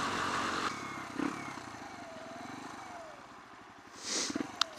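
A 125cc motorcycle with a loud aftermarket exhaust burbles at a steady idle-like throb, then a brief rev swells near the end, heard at moderate distance.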